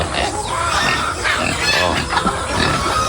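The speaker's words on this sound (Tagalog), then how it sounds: "ayan, may baboy din dito." A pig oinks and grunts repeatedly in a farm pen, loud and close, with continuous snorting over a noisy background.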